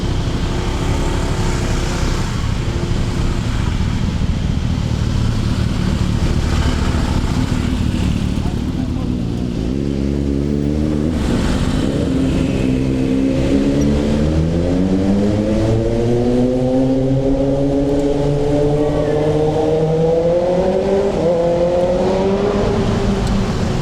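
A motorbike rides through busy Makati city streets, its engine droning steadily and then rising in pitch as it accelerates, with traffic around and a voice talking over it.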